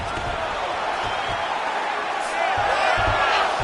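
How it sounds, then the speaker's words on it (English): Arena crowd at a women's MMA fight roaring as a fighter reverses position on the ground, a loud sustained wash of cheering that swells near the end, with a commentator talking over it. "crowd pops as she reverses position"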